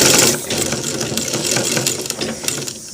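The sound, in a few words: sewing machine stitching a shirt collar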